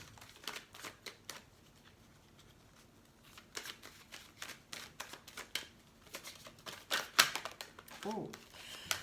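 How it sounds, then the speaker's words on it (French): Oracle cards being shuffled by hand at close range, giving a quiet run of soft riffling flutters and light slaps, with a few sharper snaps near the end. "Alors, on va tirer quelques cartes."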